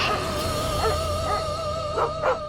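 Several dogs bark in a few short bursts over a steady tonal musical background, the barks fairly close and moderately loud, with no voices.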